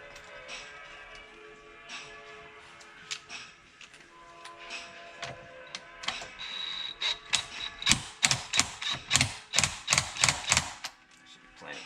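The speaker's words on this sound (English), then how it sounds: "we're gonna put this 19 nut back in" A 19 mm nut is tightened during a stock steering install on an Infiniti G35, heard as a run of quick, close, metallic ratchet clicks that build into a rapid rhythmic burst after quieter handling noises.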